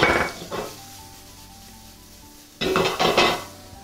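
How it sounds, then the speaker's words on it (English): Onions sautéing in a skillet with beef fond, giving a close sizzle and clatter of stirring in two bursts separated by a quieter stretch of low frying, no voices. "We'll go ahead and add our onions,"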